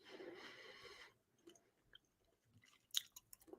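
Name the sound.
person chewing food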